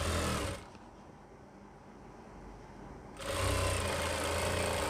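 Sewing machine running steadily while stitching fabric for baby pants, a loud continuous buzzing hum that drops to a quieter lull in the middle before resuming at full speed.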